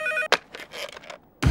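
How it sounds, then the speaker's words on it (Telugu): A telephone rings in a Telugu comedy film scene, a short electronic ring followed by a burst of clattering noise and another loud burst at the end. "ఇదేంటి ఫోన్ రింగ్ సౌండ్ వస్తుంది?"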